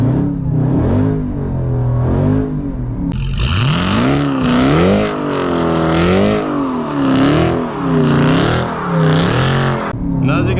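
A high-powered car is held on the brake during a burnout while the engine is revved hard in repeated swelling waves, loud and close, rising and falling as the throttle is feathered.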